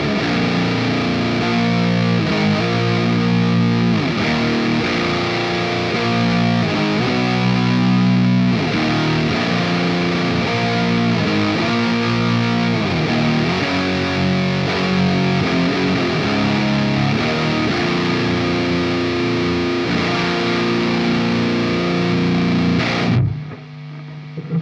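Heavily distorted electric guitar riffs played loud and continuous through a high-gain amp, thick and fuzzy, cutting off abruptly at the end.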